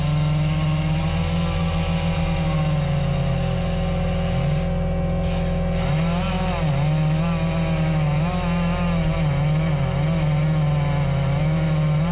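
A chainsaw runs loud and close while cutting a tree during logging, its high engine whine bogging and revving as the bar works through the wood, continuous with no talking.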